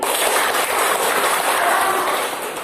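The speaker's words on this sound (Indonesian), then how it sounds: "Tepuk tangan lagi" Classroom audience at a guidance counselling session clapping, a dense, loud, even roar of applause that fades slightly at the end.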